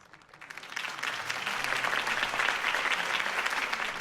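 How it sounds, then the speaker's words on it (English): A crowd applauds a mayoral campaign speech in the Batman Telltale video game, the clapping swelling from a soft start into dense, even applause that holds at a moderate distance. "could have heard that applause"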